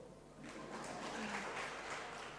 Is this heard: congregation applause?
yes